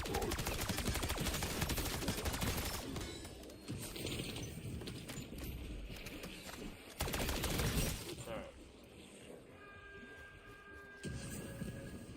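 Gunfire in the video game Black Ops 7 rattles in fast automatic bursts, loud at first, then quieter with scattered shots and pauses, a voice talking faintly under it.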